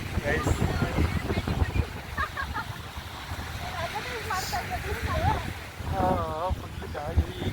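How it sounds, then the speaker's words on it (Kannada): Wind gusting across a beach in Mangalore on an evening before rain, a steady rushing roar buffeting the microphone while people talk loudly over it throughout. "ಗಾಳಿ"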